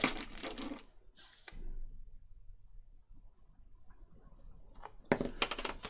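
Scissors snip through material in a quiet craft setting, a few short crisp cuts at the start and end with near silence between.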